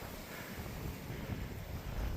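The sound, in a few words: wind blowing on a hillside above the trees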